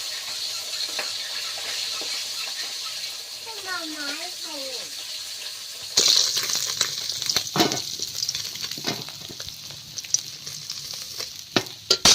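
Fish sizzles and crackles in hot oil, growing louder partway through, with a voice speaking briefly over the frying.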